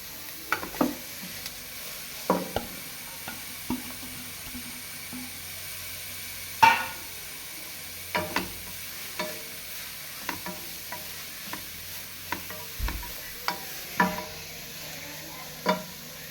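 Cabbage is stirred and fried in a pan for a homemade cabbage cutlet, with intermittent scraping stir strokes over a soft, steady sizzle, close by and with no talking.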